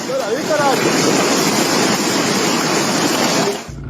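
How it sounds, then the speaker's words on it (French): Golf-ball-sized hail pounds the Allier river at night in Vichy, churning the water into waves; a loud, continuous roar of hail and rushing water, with possible wind noise, runs unbroken until it cuts off near the end. "ce sont des grelons de la taille d'une balle de golf qui créent des vagues sur l'Allier"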